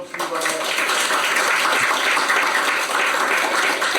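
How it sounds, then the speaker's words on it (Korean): An audience at a labor-market reform forum gives a guest a warm round of applause, a thick, continuous clatter of many hands at steady volume. "한 분 한 분 소개해 드릴 때마다 큰 박수로 환영해 주시길 바랍니다"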